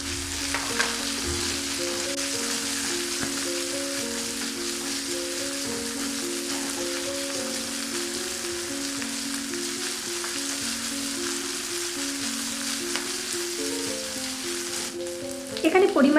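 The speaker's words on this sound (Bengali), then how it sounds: "এবার এখানে কোচানো পেঁয়াজ, রসুন এবং লঙ্কার কুচি নিয়ে নিচ্ছি।" Chopped onion, garlic and chilli fry in hot oil in a pan with mustard seeds and dried chillies, a steady dense sizzle lasting throughout with occasional stirring, and a louder clatter near the end.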